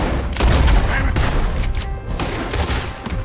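Gunfire in Red Dead Redemption 2: a burst of loud, booming shots rolls through the opening second and fades into scattered reports and rumble, with faint voices underneath.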